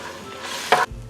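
Fried king oyster mushroom, tofu and peppers hit a hot wok, giving a short burst of sizzling and a quick scrape of stir-frying before the sound cuts off.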